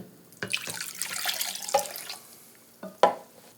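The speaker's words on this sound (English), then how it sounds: "Now we're going to add some milk. I have here 12 ounces, 360 mils of whole milk." Whole milk poured into a bowl of beaten eggs, a close liquid splash and trickle with a few soft knocks and a brief louder pour near the end.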